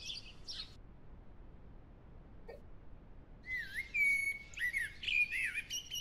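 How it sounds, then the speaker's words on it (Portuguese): Dawn birdsong in the survival video game No One Survived: a couple of high chirps open the scene, then after a quiet stretch a lively run of warbling, whistled calls fills the last few seconds, with no talking. "O pássaro canta"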